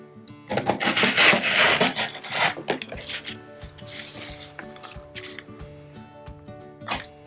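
Fabric pieces for a crazy patchwork Christmas heart tree ornament being cut, giving close rasping, scraping strokes that are loudest early on, then come in short intermittent bursts with light clicks, with no talking.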